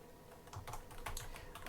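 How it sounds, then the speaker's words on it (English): A computer keyboard is tapped in quick, uneven clusters of soft key clicks over a faint room hum, close and quiet, with no talking. "Let me type what I just said so that everybody's clear."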